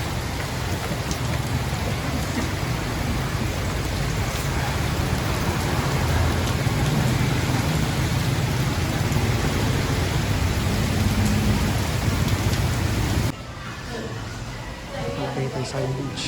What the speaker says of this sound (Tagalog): Kaya inabutan na naman ako ng ulan.